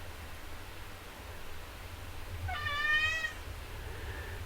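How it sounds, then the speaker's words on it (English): A pet cat gives one clear, drawn-out meow partway through, close by over a steady background hiss in an otherwise quiet room. "She's back. My crazy cat."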